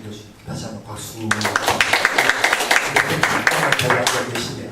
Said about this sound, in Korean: 아주 오랫동안 귀한 강의 주신 정 교수님 다시 한번 박수